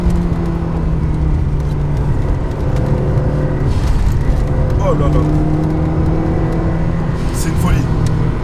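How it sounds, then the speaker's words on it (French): Turbocharged Fiat 500 Abarth engine droning steadily as the car drives, its revs climbing in a loud, continuous hum, with a voice exclaiming over it. "C'est vrai que le turbo, il se réveille vraiment dans les tours."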